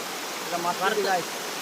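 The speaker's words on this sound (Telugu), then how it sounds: "వాటర్ ఫాల్స్ కూడా చాలా బాగున్నాయి." A small waterfall gives a steady broadband rush of falling water, with faint voices in the background.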